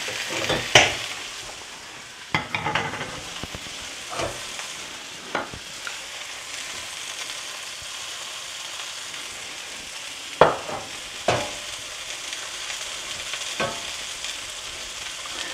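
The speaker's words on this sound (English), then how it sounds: "drain it, and we're going to toss it with some olive oil" Drained pasta being tossed with olive oil in a pan on the stove, heard as a soft continuous sizzle with a few sharp clanks and scrapes of a utensil against the pan.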